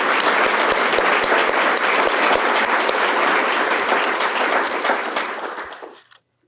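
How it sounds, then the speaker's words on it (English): Audience applause for a student at a youth leadership recognition ceremony: dense, steady clapping from a crowd that holds for about five seconds, then quickly dies away to silence. "Please join me in a round of applause for Ben."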